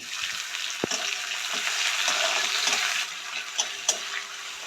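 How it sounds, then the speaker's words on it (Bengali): Chopped onion sizzles in a pan for an egg and cauliflower curry, a steady close crackle broken by a few sharp pops and the scrape of stirring. "পেঁয়াজ কুচিটা একটু ভাজা ভাজা হোক"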